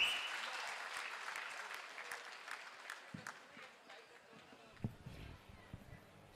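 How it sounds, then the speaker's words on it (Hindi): An audience at an event at a state legislative assembly complex in Ranchi applauds to welcome a speaker onto the stage, with steady clapping that fades gradually, while a voice and a few thumps come through near the end. "सबसे ज्यादा तालियों के साथ उसे स्वीकार कीजिएगा"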